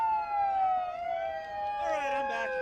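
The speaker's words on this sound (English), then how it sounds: "It's just a siren" A wailing siren at a 2016 protest against Donald Trump, its long pitch sweep falling and then rising again, steady and moderately loud over a murmur of background crowd noise.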